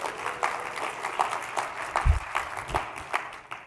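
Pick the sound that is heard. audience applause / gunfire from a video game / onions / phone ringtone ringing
audience applause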